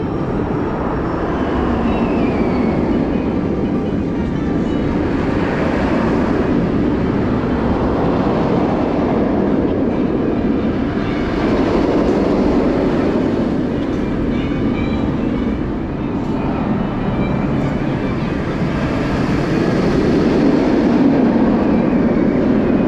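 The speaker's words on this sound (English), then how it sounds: "Our first ride of the day is Afterburn, which is a B&M invert from" Afterburn, a 1999 B&M inverted roller coaster at Carowinds, gives a continuous loud rumbling roar with slow swells in intensity throughout.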